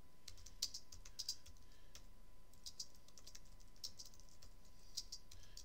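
Computer keyboard typing text, light irregular key clicks in short runs, faint against a steady low background hum.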